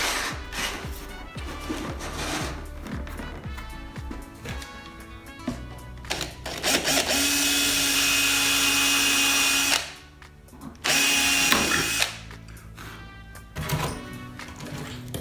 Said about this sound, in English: I'm going to go on a slow speed on the drill